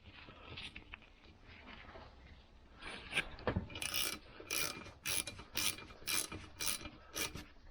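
Wrench tightening the bolts on a 1964 Lambretta Li125 scooter under restoration, heard as a run of short, close ratcheting and scraping bursts in a steady rhythm, growing busier toward the end with no one talking.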